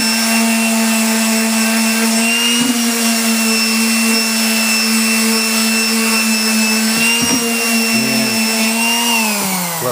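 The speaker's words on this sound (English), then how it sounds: "this is just a little matter of sanding the high points off" A power sander whines loudly and steadily up close, its pitch dipping briefly a few times as it presses against wood.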